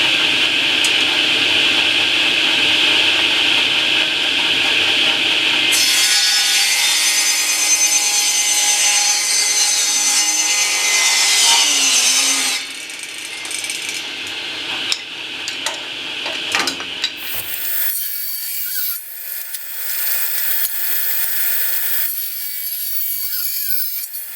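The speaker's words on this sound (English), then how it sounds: "Use a table saw for this." A table saw rips wood boards down to one inch wide, a loud, sustained whirring cut with a shifting tone across several passes, then the blade spinning down with scattered knocks and rattles.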